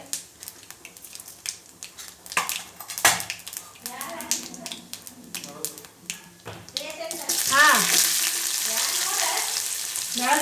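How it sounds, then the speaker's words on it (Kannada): Mustard seeds, half a spoon of cumin and urad dal crackle and sizzle in hot oil during a breakfast tempering, a steady hiss under a voice talking, with a few spoon taps before the sizzle swells louder toward the end. "ಫಸ್ಟ್ಗೆ ಸಾಸಿವೆ ಹಾಕೀನಿ ಆನಂತರ ಒಂದು ಅರ್ಧ ಸ್ಪೂನ್ ಜೀರಿಗೆ ಸ್ವಲ್ಪ"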